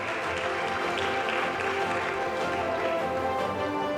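An audience at a medical college convocation claps for a first-place exam award winner, producing a continuous, even stretch of applause from the hall with no speech over it.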